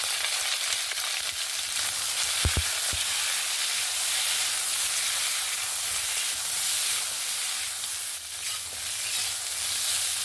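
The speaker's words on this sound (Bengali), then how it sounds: "ওই তেলের মধ্যেই ফুলকপি আলুগুলো ভেজে নেব।" Cauliflower florets and potato pieces fry in hot oil with a steady, dense sizzle that runs through the whole stretch, along with a few brief low knocks of stirring near the start.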